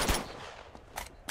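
A powerful gun fires in the video game Uncharted 2: three punchy shots, close and loud, with a short gap between the first two and a quick third right after.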